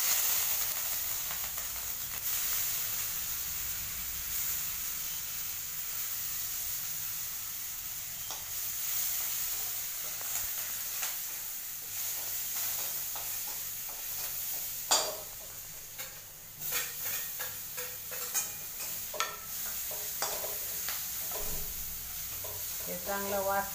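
Cumin and turmeric sizzle in hot oil as the base for a cabbage sabzi, giving a steady close frying hiss broken by occasional ticks and stirring clatter, with no talking.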